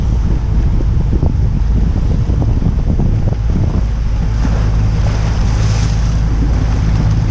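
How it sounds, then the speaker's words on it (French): Atlantic spring-tide waves and strong currents rushing past a boat moving at about ten knots: a loud, steady wash of surf and water with heavy wind buffeting the microphone, no talking. "Ça c'est les grandes marées."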